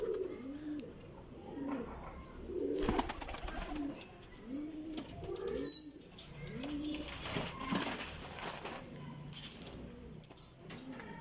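Teddy golden cross flying pigeons coo repeatedly nearby in soft, rolling, low calls, with occasional wing flutters and scuffling in between.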